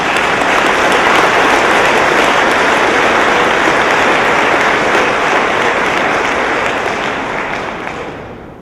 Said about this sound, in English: that deserves another round of applause